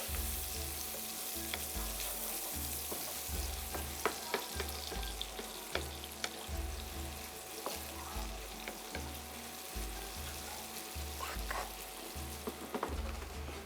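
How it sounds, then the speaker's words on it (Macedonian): Onion frying in a pan: a steady close sizzle with occasional crackles and clinks, plus a low rhythmic hum underneath, no voices. "Еви кромидот е веќе добро испржен"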